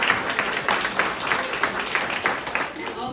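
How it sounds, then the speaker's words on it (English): Parents and guests at a Sunday school graduation party applaud the graduates, a fairly moderate, continuous patter of many hands clapping with no voices standing out. "please give them a round of applause"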